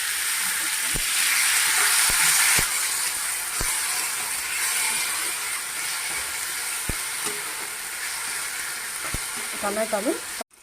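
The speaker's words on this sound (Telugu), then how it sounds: "ఉల్లిపాయలు వేగిపోయాయి. నేను టమాటా పీసి పెట్టుకున్నాను, అవి వేసుకొని అవి కూడా వేగలాగా" Onions and tomatoes fry in a pan with a loud, dense sizzling hiss throughout, punctuated by a few sharp clicks of a utensil against the metal, close and continuous.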